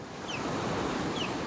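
Big ocean surf pounds a beach in North Naples, Florida, a steady broad roar of breaking waves with light wind noise throughout and a couple of faint high bird calls above it.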